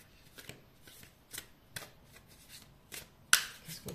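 Tarot cards shuffled by hand for a three-card reading, making soft, close riffling flutters in a loose rhythm and ending with a sharper snap of cards.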